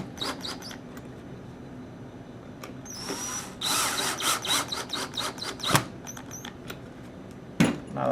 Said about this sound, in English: we'll change our bit here and get these Phillips head bolts tightened down